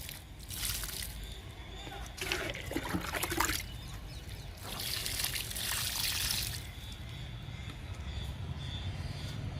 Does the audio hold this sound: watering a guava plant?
yes